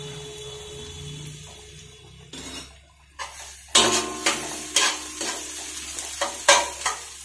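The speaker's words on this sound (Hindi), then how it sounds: "इसको हल्का हल्का भून लेंगे और एक तरफ ये चलाते रहेंगे" Ingredients for masala macaroni are stir-fried in a pan, a soft sizzle at first, then a burst of hissing and repeated scraping strokes of a spoon against metal in an uneven rhythm.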